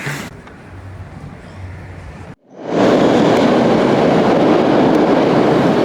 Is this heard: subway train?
yes